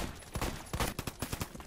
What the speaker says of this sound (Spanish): Dos disparos, tres, por lo menos.